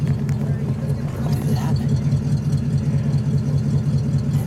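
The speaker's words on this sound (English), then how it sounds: "Let me get just a little exhaust note." A 1939 Cadillac Series 61 convertible coupe engine idles with a steady, smooth low exhaust rumble, close and constant throughout with no revving.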